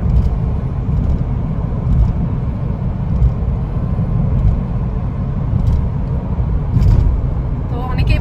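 A car driven along a road, heard from inside as a steady, loud, broadband engine and road rumble that stays constant throughout, with a few faint higher clicks and rattles.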